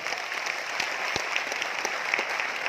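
An audience at a talk gives steady applause, with many hands clapping evenly at moderate loudness and a few sharper individual claps standing out near the listener.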